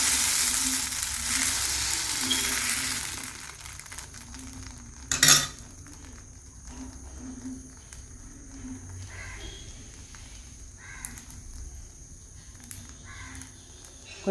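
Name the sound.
uttapam batter cooking on a hot pan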